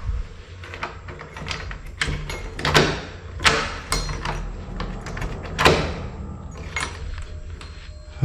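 A stuck door being forced: repeated rattling thumps, knocks and handle clatter in uneven bursts, close and moderately loud, over a low background hum.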